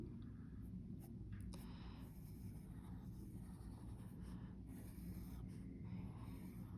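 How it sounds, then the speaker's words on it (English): Pencil writing and sketching letters on paper, a steady soft scratching that runs continuously throughout at close range, with faint strokes and no talk. "I'm just going to sketch this all out in pencil."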